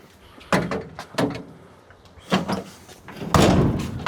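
Doors on a Scout 80 with newly welded body mounts are opened and shut in a workshop, several sharp metallic slams and clunks spaced unevenly, close and loud.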